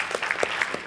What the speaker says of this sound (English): I feel like that deserves a round of applause